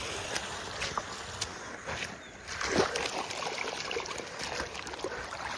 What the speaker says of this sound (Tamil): பாருங்க தண்ணி ஃபுல்லாக போகுது.